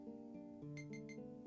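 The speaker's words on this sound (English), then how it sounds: "it just beeps faster" Game sonar in the Chocobo Forest of Final Fantasy VIII, a clear electronic beep repeating three times in quick succession over a steady synthesized music bed, the pulses coming closer together.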